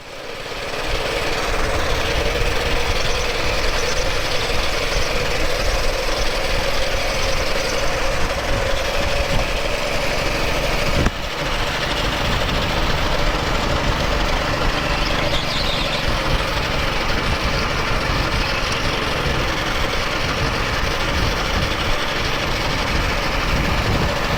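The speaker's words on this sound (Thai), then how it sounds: "เหยียบคันเร่งจนปวดขาครับ" A go-kart engine on a racing track with the accelerator held down, giving a loud, steady, rough mechanical drone that runs the whole time with only a brief dip partway through.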